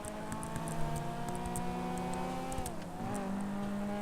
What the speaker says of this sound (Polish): I ten piękny dźwięk silnika.